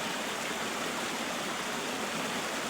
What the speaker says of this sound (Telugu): ఈ వాటర్ ఫాల్స్లో